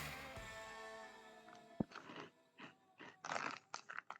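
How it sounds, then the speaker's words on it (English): Close, crisp crunching and chewing of food, with irregular bites growing louder toward the end. No voice is heard. "I can hear you chewing."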